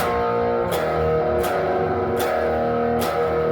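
A distorted electric guitar riff with chugging repeated notes and four sharp accented hits, loud and continuous, no voices.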